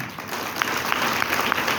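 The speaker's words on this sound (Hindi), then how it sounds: "तो जोरदार तालियां चाहिए अभिषेक सर के लिए।" An audience gives a speaker brisk, continuous applause. The clapping is dense and fairly close, with a few louder individual claps standing out.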